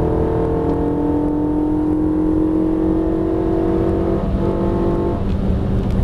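Renault Mégane RS at full throttle on a track at Issoire, heard from inside: a loud, sustained engine drone climbing steadily in pitch through the revs, then a brief dip as it shifts and pulls again.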